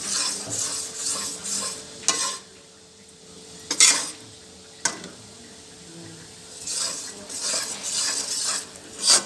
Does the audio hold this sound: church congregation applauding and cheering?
no